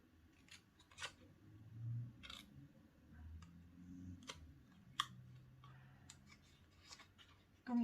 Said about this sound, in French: J'essaie de bien couper correctement quand même.